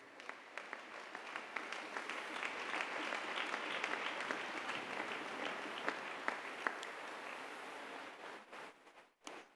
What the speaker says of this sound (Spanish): Por favor, un aplauso para Cristo.